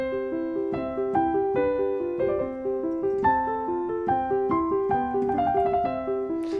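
Mozart piano piece played in a professional style, the melody hand brought forward over a softer accompaniment; a flowing run of notes at even volume, close and clear, with no voices.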